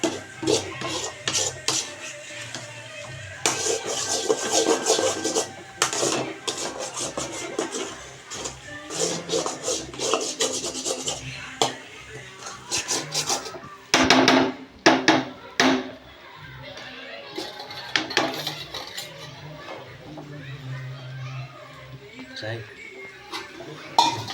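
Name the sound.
stirring egg podimas (scrambled egg) in a pan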